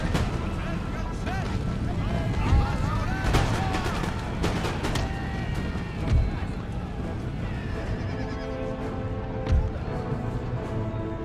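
Musket volleys in Empire: Total War, several muffled booms spread across the battle amid horse neighs and hoofbeats, with talking over the top.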